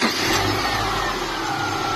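A Subaru EJ engine, just rebuilt with new bottom end bearings, fires up and is revved, a loud steady mechanical roar close by with no talking.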